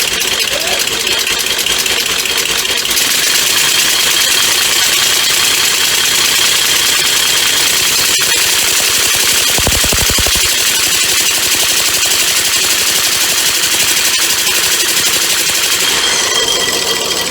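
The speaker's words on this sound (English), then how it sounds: "But this is how it runs now." A home-built two-cylinder compressed air motor runs loud and close with rapid, rattling, machine-gun-like pulses and hissing exhaust, steady throughout with a brief low thump near the middle.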